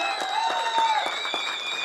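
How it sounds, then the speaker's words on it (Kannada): Applause at a ceremony honouring actor Rangayana Raghu, a rhythm of repeated hand claps over sustained musical tones, steady and moderately loud throughout. "ಜೋರಾದ ಚಪ್ಪಾಳೆ."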